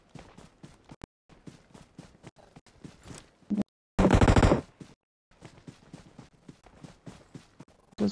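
Gunfire rings out in a multiplayer shooter game: scattered sharp shots and short bursts, with one loud sustained burst of automatic fire near the middle, set against quieter intermittent clicks and steps.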